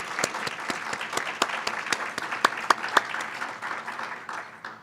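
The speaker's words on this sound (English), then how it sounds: "Let's give her a round of applause." Audience at the Silver Gavel Awards ceremony clapping steadily, a moderate room of crisp, evenly spaced claps that fade slightly toward the end, with no voices.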